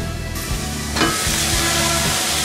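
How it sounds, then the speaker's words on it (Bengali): Water spinach and dried fish sautéing in a hot pan give a loud, steady sizzle with frying crackle and a brief stirring scrape, with no voices. "এটাকে আমি হালকা একটু কষিয়ে নিব"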